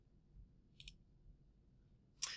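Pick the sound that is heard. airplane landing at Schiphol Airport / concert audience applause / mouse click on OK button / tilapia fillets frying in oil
mouse click on OK button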